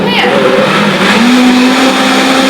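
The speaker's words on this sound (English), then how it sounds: "I'm just going to blend it up a little more to blend that coconut oil in" A blender whirs loudly and steadily up close, mixing plantain bread batter with coconut oil for a gluten-free paleo loaf, its motor pitch rising slightly partway through while a person talks over it.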